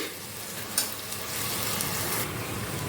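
Onion and vegetable puree for a cauliflower gravy curry fries in oil while being stirred, with a steady, close sizzle and occasional scraping strokes throughout, and no talking.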